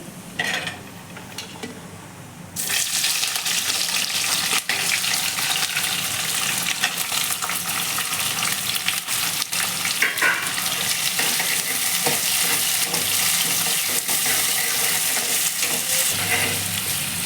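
Onions hit hot oil with cumin seeds for a spicy okra dish, bursting into a loud, steady sizzle that holds close and even throughout, with faint stirring underneath and no speech.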